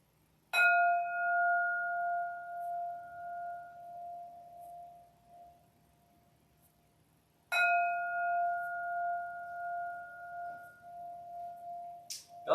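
A meditation bell is struck twice about seven seconds apart, each strike ringing out clearly in a quiet room and decaying slowly into near-silence, with a faint tap at the end.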